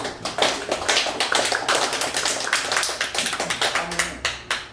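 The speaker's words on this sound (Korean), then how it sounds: "큰 박수 한 번만" Applause from a lecture audience, a steady patter of many hands clapping together for several seconds before tapering off.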